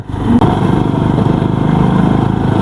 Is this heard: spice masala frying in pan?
no